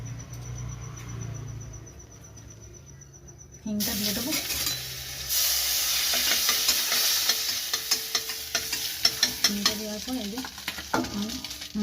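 Green peas drop into a hot wok of ground spices and sizzle loudly, the frying hiss jumping up suddenly and holding steady while a spatula scrapes and clinks against the pan in repeated close strokes.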